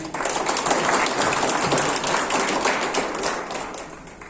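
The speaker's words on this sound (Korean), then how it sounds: "동지 여러분들 힘찬 격려 박수로 우리 담배위원장님 힘찬 박수로 모시겠습니다." A roomful of union members applauds to welcome the committee chair at a training session, dense steady clapping that stays loud and continuous throughout.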